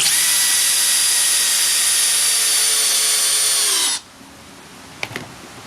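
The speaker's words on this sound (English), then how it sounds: "We're going to put both of them on the drill mode. We're going to fire those screws in." Two power drills set to drill mode drive screws together, giving one loud, steady whine for about four seconds before cutting off abruptly, followed by a few faint clicks.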